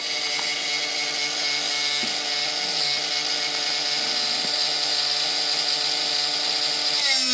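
A CNC machine cuts UHMW plastic with a freshly sharpened bit, making a steady, loud, harmonic whine with a bright high hiss that holds without a break throughout, and no voices are heard.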